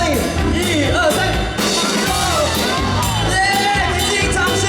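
Hospital medical staff gathered at a singer's performance cheer and yell together, a loud, close crowd roar with shouts and whoops rising in bursts.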